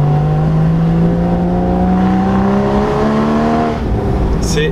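A Porsche Boxster 981 Spyder's engine revs hard and loud, its tone climbing steadily through the gears and dipping briefly near the end before pulling again.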